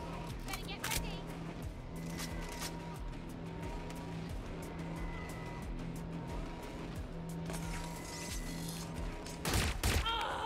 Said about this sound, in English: Oh, he had a shotgun, dude.